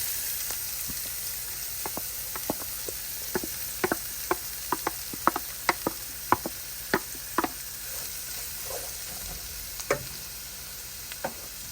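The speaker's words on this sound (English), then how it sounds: "Now I'm going to add my peppers and onions." Peppers and onions sauté in a pan with a soft steady sizzle, punctuated by a series of sharp clicks and taps of stirring against the pan.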